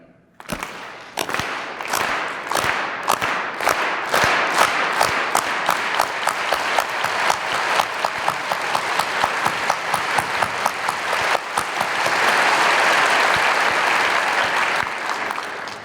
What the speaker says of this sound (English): We start off clapping slowly, and then we gradually get faster.